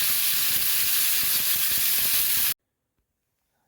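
Beef roast searing in a hot pan gives a steady, loud sizzle and hiss for about two and a half seconds, then cuts off abruptly to near silence.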